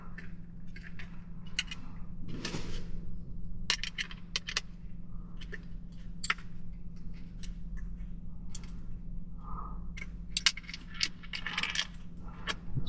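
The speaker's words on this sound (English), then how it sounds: "Just by undoing these two screws holding it in place." Two screws come out of a Tesla screen mount, giving scattered small metallic clicks, ticks and light taps over a low steady hum, close by but quiet.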